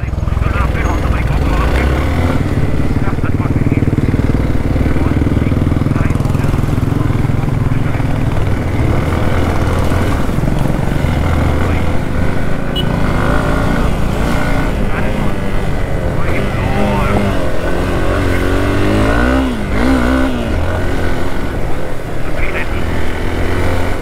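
Motorcycles riding along a road toward the Rani Jhari edge viewpoint near Kalasa make a loud, unbroken engine drone mixed with wind rush. It stays steady throughout, with no separate passes standing out.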